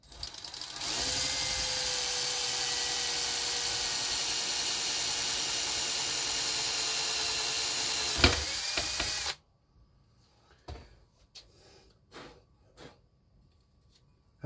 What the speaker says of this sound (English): So that's my first hole drilled.